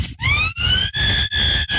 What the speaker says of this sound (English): we took that through an amp with a lot of gain